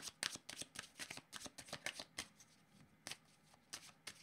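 Tarot cards are shuffled by hand in a quick run of crisp, riffling slaps and flicks, faint and close, thinning out toward the end as cards are drawn.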